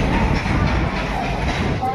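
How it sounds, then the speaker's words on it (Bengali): A train stands or rolls at Raxaul railway station, arriving from Howrah; a loud, continuous low rumble and roar fills the platform, with voices mixed into the noise. "এই ট্রেনটা আমাদের নিয়ে এসেছে"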